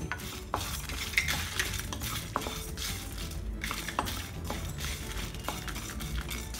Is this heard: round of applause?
no